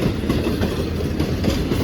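Awam Express passenger train passing on the rails at Bulari station in Pakistan, a loud, steady continuous rumble of carriages rolling close by with no talk.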